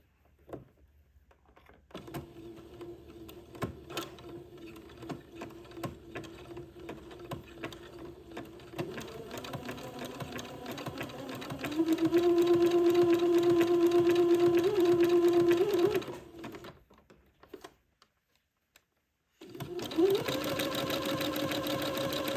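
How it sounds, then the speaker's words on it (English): A sewing machine zigzag-stitches a small seam on a baby gown, with a soft start that builds into a steady, loud mechanical hum, a brief stop, then another run. "I'm going to switch to a zigzag. And zigzag to finish this little seam off"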